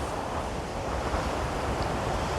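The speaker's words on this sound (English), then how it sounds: "So we've got some strong waves I can see on the beach coming in" Strong surf rolls onto a beach after heavy rain, with gusting wind buffeting the microphone in a constant, loud roar of crashing water.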